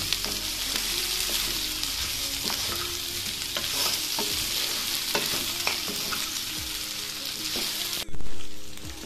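Pork fries in a pan without added oil, a steady close sizzle with frequent stirring scrapes and clinks, ending in a sudden louder burst of hissing near the close.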